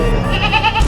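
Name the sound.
goat bleating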